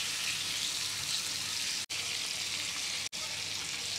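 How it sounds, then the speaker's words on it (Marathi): Bangda (mackerel) fish frying in oil on a tawa over a low gas flame, a steady broadband sizzle that runs continuously at close range, broken by two brief dropouts, with no talking. "आता बारीक गॅसवरती मस्त आपण त्याला फ्राय करून घेऊया"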